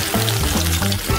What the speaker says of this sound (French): on pourra le plonger dans l'huile bouillante